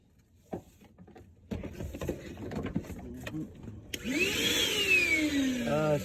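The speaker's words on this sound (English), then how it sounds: "just get a little bit more in the vacuum" A vacuum cleaner switches on and whines steadily after a few seconds of tapping and rustling, its motor pitch sliding downward as it runs.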